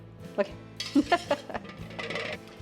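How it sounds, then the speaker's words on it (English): A whisk clinks and scrapes against a bowl while stirring a creamy turkey tetrazzini sauce, a few quick metallic taps followed by a softer swishing stir, close and moderately loud. "I'm mixing it together with a whisk."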